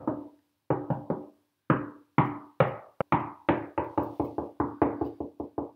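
Knuckles knock on a wall behind a toilet roll holder in a series of close, dry raps, some in quick pairs and bursts, with short pauses between.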